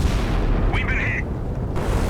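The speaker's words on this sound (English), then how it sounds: "Yet another shell landing on Scharnhorst, yet another landing on Malaya." Shell impacts on warships in the naval combat game Sea Power, with rolling heavy booms and rumble in a dense, continuous battle din and a brief high whistling tone midway.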